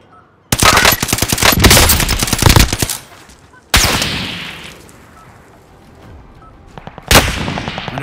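Bursts of automatic gunfire and explosions in the shooter Call of Duty: Modern Warfare, three loud separate volleys of rapid shots, each ringing off into a fading rumble before the next begins.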